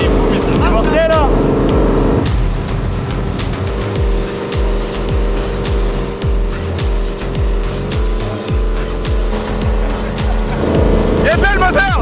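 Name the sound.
big V8 engine running in a speedboat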